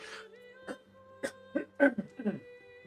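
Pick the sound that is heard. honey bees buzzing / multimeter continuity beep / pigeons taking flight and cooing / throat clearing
throat clearing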